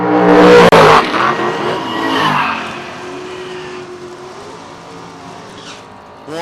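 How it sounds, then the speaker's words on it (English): Red drag racing bracket car warming up for a time trial at a footbrake race, a loud burst of revving and tire squeal up close that fades into a distant engine drone. "Warms a little red car up for a time trial of 697."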